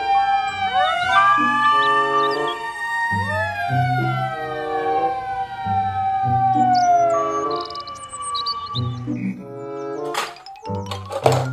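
A toy fire truck siren wails loudly and continuously, its electronic tone rising and falling in repeated sweeping cycles, ending with a few clunks.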